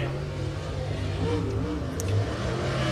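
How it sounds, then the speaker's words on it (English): A group of race cars rolling onto Pike County Speedway for the Jambalaya 100, a steady engine drone with revving swells, moderately loud and fairly near, with faint talk beneath. "next group of cars coming onto the speedway"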